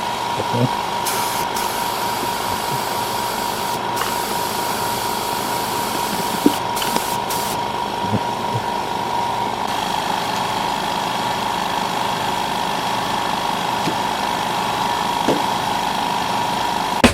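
A OneStep 40 L air compressor runs with a constant, loud mechanical hum and rattle throughout, steady and close, while a person talks over it.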